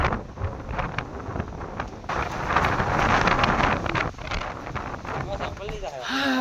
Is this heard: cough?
no